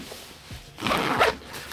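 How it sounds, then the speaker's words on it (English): Zipper on a Code of Bell x Harvest Label 4020X bag is pulled, a quick, close rasping run after a quiet start, with faint handling noise around it. "The zipper kind of got buried."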